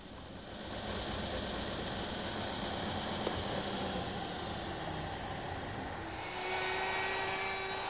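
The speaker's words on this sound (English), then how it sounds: "A 1/2-inch radius roundover bit takes care of the edges." A woodworking router fitted with a half-inch roundover bit shapes the edges of redwood pieces, giving a steady, loud high-pitched motor whine that holds throughout and shifts slightly in pitch near the end, no talking.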